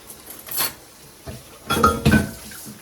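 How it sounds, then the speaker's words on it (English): Dishes and cutlery are washed and rinsed in a kitchen sink, making a few scattered clinks and clatters with quiet gaps between them. Two louder knocks of crockery come near the end. "Now let me wash these dishes and rinse these dishes"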